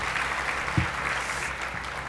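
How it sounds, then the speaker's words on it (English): An audience at an Ohio State agricultural celebration applauds a speaker, a moderate, somewhat distant crowd of clapping hands that runs steadily through the moment with no speech. "I'll pause and let you applaud that as well"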